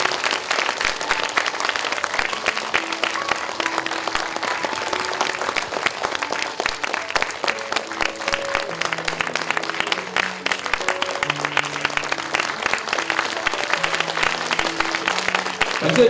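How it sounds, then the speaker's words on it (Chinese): A lecture audience at an academic talk on Taoist culture gives steady, sustained applause to the professor, dense clapping that continues throughout over faint tonal background music. "请大家掌声不断，来谢谢我们的李教授"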